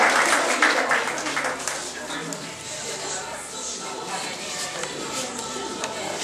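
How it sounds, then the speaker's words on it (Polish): Audience applause at an exhibition opening in a municipal public library showing works by Danuta Kowalska and Marta Kołtun: a moderate, steady wash of clapping that eases slightly midway, with voices mixed underneath. "Mocne brawa dla Aniołka"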